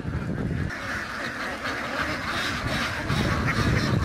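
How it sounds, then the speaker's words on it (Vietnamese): A flock of sea ducks raised under mangrove trees on a coastal farm in Tien Hai, Thai Binh, quacks in a dense, overlapping chorus, close and continuous. "Có đến 5 hộ dân nuôi hàng nghìn con vịt biển dưới tán rừng ngập mặn ở ven biển"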